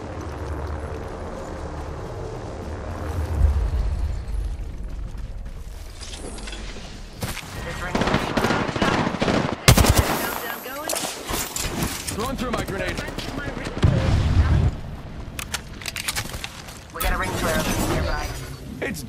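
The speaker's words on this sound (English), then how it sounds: "Shot fired." Gunfire in the Apex Legends video game, with bursts and sharp cracks scattered through a busy mix of game effects and continuous talking over the action.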